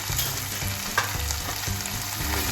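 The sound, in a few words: frying chili garlic paste with turmeric and chili powder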